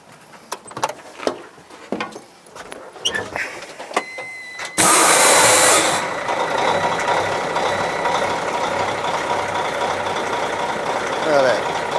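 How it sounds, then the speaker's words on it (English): A 500 horsepower truck engine turns over after sharp clicks and knocks, then settles into a loud, steady idle rumble that carries on close by, with voices heard under it. "How many horsepower is that, John? It's 500"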